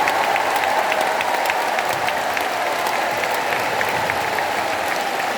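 Loud, continuous clapping from a big rally audience inside Jangchung Arena at a church federation gathering, thick and uniform from start to finish, with a faint crowd murmur beneath it.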